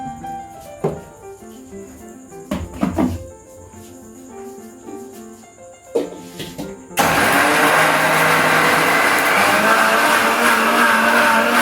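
A kitchen mixer grinder blends small watermelon pieces. After several seconds of quiet clicks and handling noises, the motor kicks in suddenly and runs as a loud, steady, close whir to the end.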